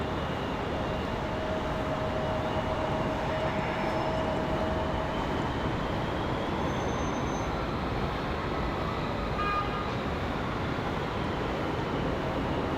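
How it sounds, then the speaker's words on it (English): Frontier Airbus A321 airliner pushing back at RDU Raleigh-Durham airport on a windy day, a steady, loud broadband engine roar and whine with wind rush that holds unbroken throughout. "Speaking of Frontier, got an A321 pushing back over here on this side."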